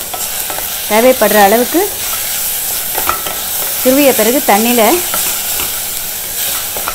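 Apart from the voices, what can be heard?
potatoes frying and stirred in ghee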